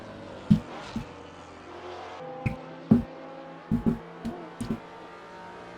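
Early-1970s Ford Mustang Mach 1 engine on the Oulton Park race track: a steady close engine drone heard from inside the car, punctuated by sharp thumping bumps and shifts, with no talk.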